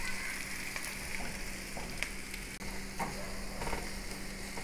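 Food fries in a pan seasoned with a little pepper and salt, a steady close sizzle with faint crackles and stirring scrapes, and no voices.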